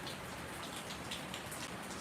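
Steady rain falls and patters on surfaces outdoors, a constant even hiss with scattered drop taps and no voices.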